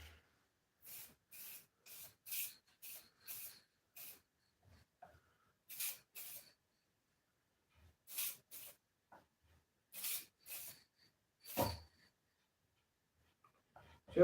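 Aerosol spray can hissing in a series of short bursts while paper sketchbook covers are coated, the quick sprays repeating with pauses between and no talk.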